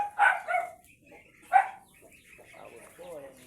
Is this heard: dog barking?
yes